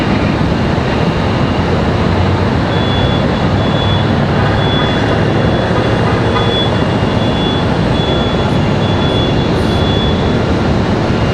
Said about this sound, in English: We've got a Delta connection at CRJ about to touch down now.